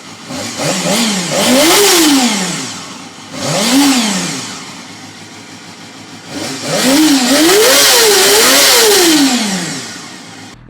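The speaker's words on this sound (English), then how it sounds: "I feel like the muffler sounds like it's fresh off of a Honda generator." A Honda CBR 250 motorcycle engine revs up and falls back in several rising and falling sweeps, loud and close, with a raspy exhaust note and no talking.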